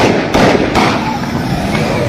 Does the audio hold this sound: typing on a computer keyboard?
no